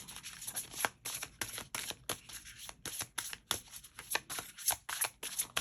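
Tarot cards being shuffled by hand, a quick run of crisp papery riffles and slaps with short pauses between bursts, close and fairly quiet, with no voice.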